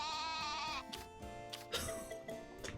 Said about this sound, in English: Whenever they all just like go baa at once,